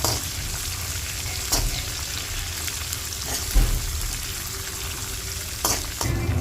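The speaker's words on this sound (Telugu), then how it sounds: "తర్వాత పచ్చిమిరపకాయలు వేసుకొని ఫ్రై చేసుకోవాలి." Green chillies fry with curry leaves in a pan for a festival chickpea prasadam. A loud, steady sizzle is broken by a few sharper stirring knocks, and no one speaks.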